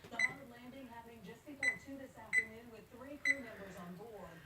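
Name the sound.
kitchen timer being set for 20 minutes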